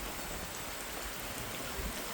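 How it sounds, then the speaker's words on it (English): Steady rain falls during a Texas storm, a dense, even hiss of drops close by with no voices. "just like that, we have started to rain again."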